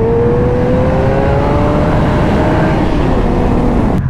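A Suzuki Hayabusa motorcycle engine revs during a wheelie, its loud, close drone climbing steadily in pitch over heavy wind rumble.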